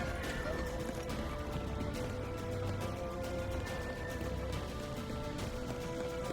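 Steady hoofbeats of a galloping horse thud continuously under a busy, cluttered soundtrack in The Witcher 3: Wild Hunt, with a brief neigh.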